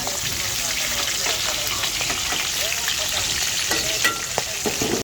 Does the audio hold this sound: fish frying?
yes